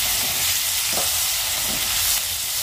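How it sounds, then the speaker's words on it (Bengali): Food frying in a pan until crispy gives a steady, close sizzle with a dense hiss that holds evenly throughout, and no voices. "যতক্ষণ পর্যন্ত মচমচে না হবে ততক্ষণ পর্যন্ত ভাজতে হবে"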